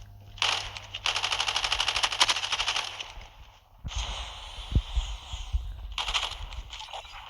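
Rapid automatic gunfire bursts from the mobile shooter game Call of Duty Mobile, two sustained volleys separated by a short gap, crisp and close, with game effects between them.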